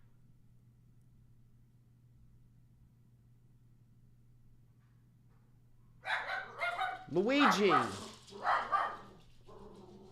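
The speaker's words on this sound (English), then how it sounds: "Fucking dog." A dog barks several times up close, in a short burst of loud yelping barks that starts after a long stretch of quiet low hum, and a person speaks over the end.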